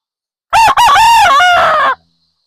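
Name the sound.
rooster crowing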